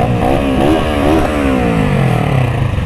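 A 50cc scooter engine revs hard and close, its buzzing pitch climbing and dipping in quick waves before sliding lower as it passes, loud throughout with no voices.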